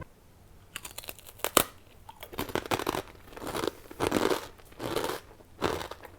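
Crunchy edamame senbei rice crackers are bitten and chewed close to the mic, giving repeated sharp crackling crunches in irregular bursts across several seconds, with no talking.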